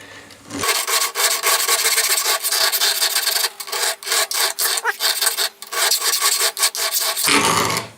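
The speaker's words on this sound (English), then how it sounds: "Now the teeth on a file only cut one way, so sort of as I'm pulling it towards me, it's cutting" A metal file rasps harshly back and forth in close, loud strokes, nearly continuous for about seven seconds with brief uneven breaks between passes and no talking.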